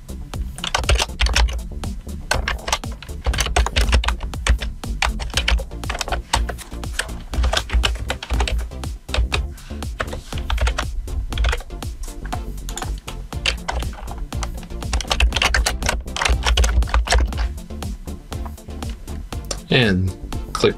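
Rapid keystrokes clatter on a computer keyboard while contact details are filled into a web form in Visual Studio 2019, a steady close run of typing that continues throughout the clip under ongoing talk.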